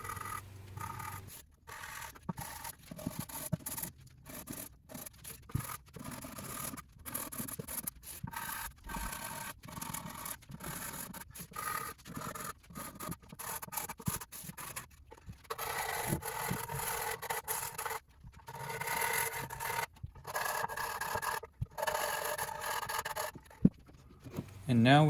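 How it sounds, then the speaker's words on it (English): Sanding a wooden treasure chest after its cracks were filled, with rough, rhythmic rubbing strokes broken by short pauses over about twenty-five seconds, faint and close. "I went ahead and sanded the entire thing."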